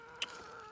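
A chicken gives a brief, soft cluck, a single short call over quiet background hum.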